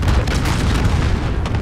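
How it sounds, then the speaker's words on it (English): Cluster strike explosions in Call of Duty: Modern Warfare, a dense, loud run of overlapping booms and rumbling detonations filling the whole moment without a break. "Allied cluster strike inbound."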